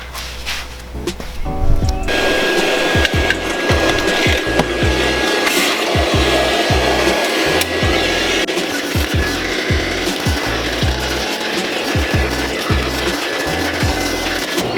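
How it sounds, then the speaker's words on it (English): Stiff brush scrubbing salt stains out of carpet, loud steady rasping strokes repeating in quick rhythm from close by, with no talking. "If you really want to get all the dirt that's inside the carpet, a brush really helps."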